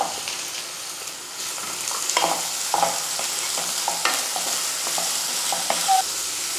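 Chopped onions, green chillies and capsicum sauté with a little salt in a pan, giving a steady sizzle under irregular scraping and stirring strokes, with occasional sharp clinks of the spoon against the metal.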